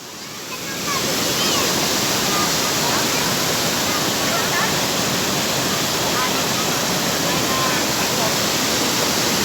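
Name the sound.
waterfall at Cachoeira do Ouro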